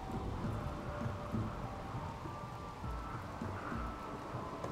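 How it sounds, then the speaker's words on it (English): Steady rain hisses through a RimWorld colony, with low rumbles like distant thunder beneath, continuous and fairly quiet. "And now the rain comes."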